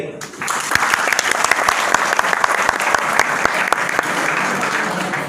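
A seated audience at a company seminar claps in response to the presenter, a dense burst of hands with sharp individual claps standing out near the front, sustained for several seconds and fading slightly at the end.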